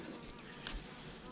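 Honeybees at a hive in autumn give a faint, steady buzzing hum that holds evenly throughout, quiet and somewhat distant.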